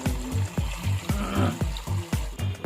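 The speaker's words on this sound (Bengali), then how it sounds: "এখন হচ্ছে মাংসটাকে সুন্দর করে ধোয়ার পালা।" Raw meat being rinsed under running water in a sink, with a steady run of splashy pulses about twice a second, close and fairly loud, as the pieces are rubbed and turned.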